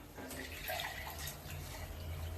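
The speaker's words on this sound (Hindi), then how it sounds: "गर्म पानी ही डालेंगे जो मैंने चावल के लिए चढ़ाया था।" Hot water that had been heated for rice is poured from a pot into a pan of aloo chana, a steady close splashing pour lasting the whole moment, with no talking.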